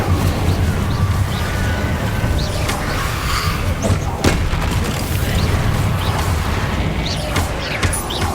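A fire spell blast, Incendio, roars in the PS5 game Hogwarts Legacy: a loud, continuous crackling rush of flame with scattered booming impacts, dense and close, running the whole stretch without a pause.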